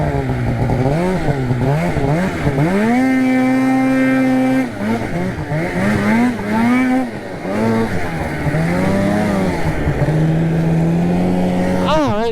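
A Polaris RMK snowmobile engine revs hard while riding through cattails, its pitch climbing and dropping in repeated surges with a sustained high whine in the middle, loud and close.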